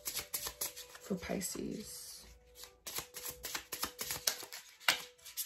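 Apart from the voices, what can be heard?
shuffling tarot cards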